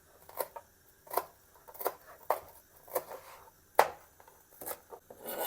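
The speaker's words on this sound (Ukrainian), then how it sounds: "Ріжемо петрушку" A knife chops fresh parsley on a cutting board in a steady rhythm of about eight crisp, separate strikes, close and clear with quiet gaps between.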